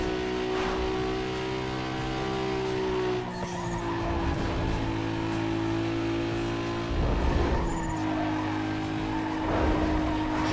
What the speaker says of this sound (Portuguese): Eu quero testar ele no drift ainda.